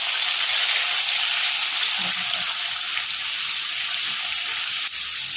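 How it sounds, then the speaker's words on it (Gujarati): Garlic paste fries in hot oil with cumin and asafoetida over a low gas flame, making a loud, steady, close sizzle that carries on without a break and has no talking over it. "ગેસને ધીરો કરીને અને શેકી લઈશું સરસ લસણને."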